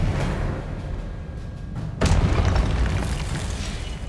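An Expelliarmus spell cast in the Hogwarts Legacy video game lands as a single deep booming blast midway through a dense rumbling game soundscape.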